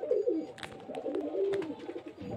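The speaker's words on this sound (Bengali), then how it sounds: "দেখতে পাচ্ছেন পায়রা, আর স্ট্যান্ডিং কোয়ালিটি দেখুন" Pigeons cooing up close in a loft, several rolling coos in quick succession with soft wing and shuffling noises between them.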